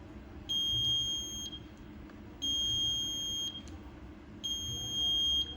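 An IoT kWh meter alarm sounds after usage exceeds its set point: three identical high steady beeps, each lasting about a second, repeating at roughly two-second intervals over faint background hum.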